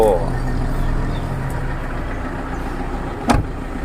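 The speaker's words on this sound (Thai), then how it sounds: "ฟังเสียงเครื่องยนต์กันดู" A 2006 Toyota Hilux Vigo 2.5 pickup engine idles steadily nearby with a low, constant rumble, and a brief clunk near the end.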